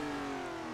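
A 1960s racing car in a VR sim race on the Nordschleife, engine note dropping as it downshifts, a close, steady buzzing drone that holds through a brief moment with no voices.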